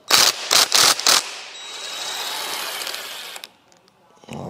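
A power tool works the camshaft pulley nut off a Renault Mégane 3 RS engine in several short, loud bursts, then a quieter sustained whir that cuts off, followed by a clunk of parts.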